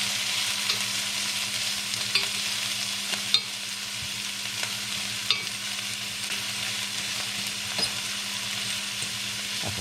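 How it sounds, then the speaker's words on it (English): Onions sauté in olive oil over high heat, giving a constant close sizzle with occasional clicks and scrapes as they are stirred, under a low steady hum and with no talking. "Saute that for about 5 minutes till they become translucent. We'll stir this up."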